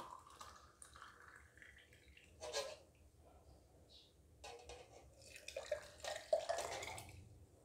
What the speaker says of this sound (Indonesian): kita tuangkan uh, air daun telang tersebut